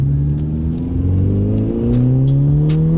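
A Volkswagen GTI engine revs up close, its pitch climbing steadily and loudly as the throttle builds, with no voices over it.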